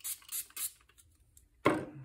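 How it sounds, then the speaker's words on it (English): A spray bottle mists a watercolor urban landscape painting: three quick hissing pumps, a pause with faint rustling, then a stronger, longer spray burst, close and alone. "let me give this a good spray here"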